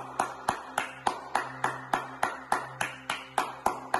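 Congregation clapping in unison at a memorial service for Rev. Franklin Peacock, a steady rhythmic beat of about three claps per second, loud and close, with a sustained organ or keyboard chord underneath.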